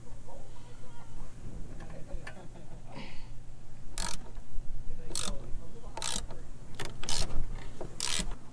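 A ratchet wrench works a 13 mm brake line fitting under an S550 Mustang, giving a series of sharp, close clicks in uneven bursts over low background noise.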